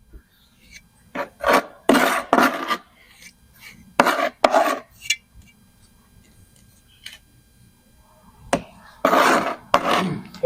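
A trowel spreads cove base adhesive across a wall in rough scraping and rasping strokes, several bursts separated by pauses, fairly close and loud, with background chatter in between.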